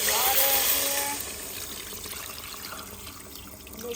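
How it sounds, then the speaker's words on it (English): Water pours into a cooking pot over seasoned chicken for ramen, a brief splashing pour up close that fades into lighter trickling, with faint background talk. "and then we're going to add our water here."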